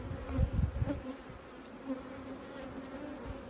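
Honeybees buzz around a hive in spring, a low droning hum with a few louder passes up close near the start, then a steady quieter drone.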